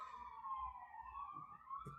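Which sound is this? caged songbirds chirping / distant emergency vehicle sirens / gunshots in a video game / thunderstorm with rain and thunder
distant emergency vehicle sirens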